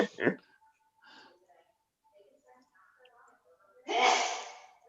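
A single sharp sneeze from a person at an online youth soccer association meeting, near and loud, followed by quiet breathy sounds and another strong burst.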